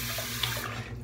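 Water streams from a tap into a sink while a 1965 Schick Korona double-edge razor is rinsed, a steady nearby rush that thins out toward the end.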